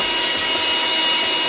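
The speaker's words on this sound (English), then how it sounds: "when you're using this grinder, ends up happening is there a lot of coffee" An electric coffee grinder runs at full speed, a loud, steady, hissing whir with no break for the whole moment.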